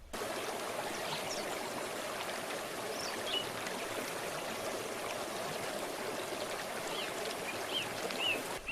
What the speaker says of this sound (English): walking out to a nearby stream to drink